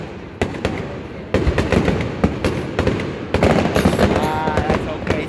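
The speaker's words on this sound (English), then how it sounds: "A firework place is right behind us, right in front of us." Boston fireworks in 2023 burst repeatedly nearby, loud sharp cracks and booms at irregular intervals over a dense crackling rumble, with a whistling streak near the end.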